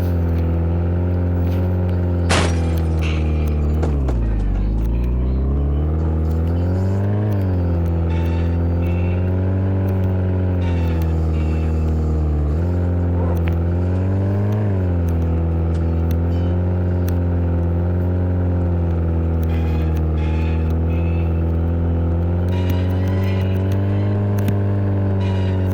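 Car driving in a mountain traffic crash video game, with a loud steady engine drone that rises and falls as the car shifts and accelerates, and one sharp clank early on.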